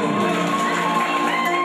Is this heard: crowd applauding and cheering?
yes